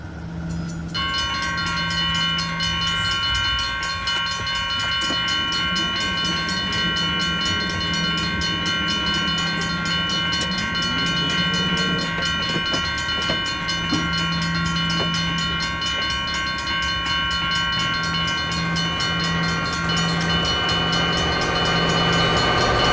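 A train passes a homemade railroad crossing, with a steady ringing crossing bell and sustained horn tones over a constant rolling rumble, loud and continuous throughout.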